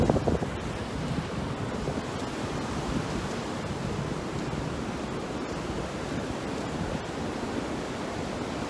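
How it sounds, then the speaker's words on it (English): Strong wind blowing outdoors buffets the microphone in a steady, loud roar that never lets up, heard alone with no voices. "I hope you can hear me over all this wind."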